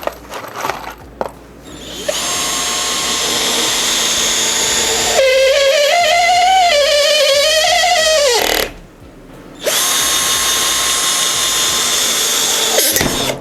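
A Procraft Industrial PA18DFR cordless screwdriver drives a screw into a pine board, its motor whining at a steady pitch that rises and strains as the screw bites, then stops briefly and whirs again, close up with no talking.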